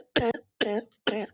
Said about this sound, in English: you hear that nasty ass cough